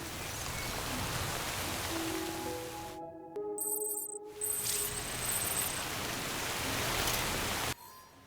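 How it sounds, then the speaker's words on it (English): Steady rain hissing down in Death Stranding, a broad wash of noise lasting most of the time, broken by a brief quiet gap with tonal interface chimes before the downpour resumes and then cuts off. "So this rain does not seem to be stopping"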